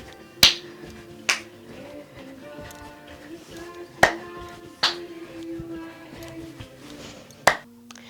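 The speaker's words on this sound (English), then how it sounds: "So we go clap up, clap down" Hand claps in a Dru Yoga class exercise: six sharp, isolated claps spaced irregularly about a second apart, set over a sustained musical backing.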